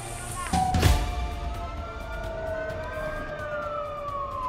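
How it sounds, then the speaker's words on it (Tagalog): A fire truck siren wailing as the truck rushes to a warehouse fire at night in Gumaca, Quezon, its tone gliding steadily up and down, loud and close after a sharp onset, with traffic rumble underneath. "Nagmamadaling rumesponde sa sunog ang fire truck na yan"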